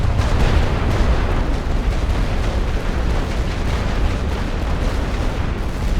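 A dense, continuous artillery barrage from The Great War: Western Front makes a loud, rolling roar of overlapping booms with no pauses.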